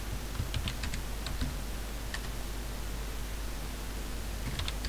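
Typing on a computer keyboard, a scattering of light clicks in small bursts over steady background hiss, with no talking.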